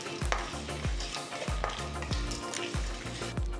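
About two tablespoons of peanuts and mustard seeds fry in oil over a low flame, giving a dense, continuous sizzle with repeated soft popping thumps at a fairly even pace.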